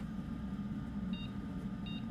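Two short, faint electronic beeps sound about a second apart over a steady low hum, with no talking, as a Radeon RX 6600 graphics card starts up during repair.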